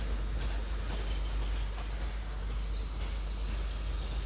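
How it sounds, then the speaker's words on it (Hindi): The Andhra Pradesh Sampark Kranti Express pulling out of a station platform, a low steady rumble of rolling carriages with faint rail clatter, continuous and even in level. "और वैसे अभी ट्रेन जस्ट निकल ही रही है"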